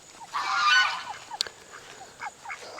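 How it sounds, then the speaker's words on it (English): Backyard ducks, including a Khaki Campbell hen, give a loud nasal honking call close by, then a sharp click and a string of softer short quacks and chuckles scattered through the rest. "Jean, the khaki Campbell, I found her egg today"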